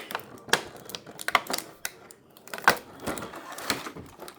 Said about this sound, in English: Alright, let's take this top piece off. Of course, that's what's taped.